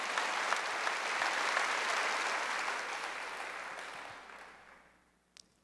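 A church congregation at a Wednesday worship service applauding in a dense, sustained burst that slowly fades out, with a single knock just after it ends.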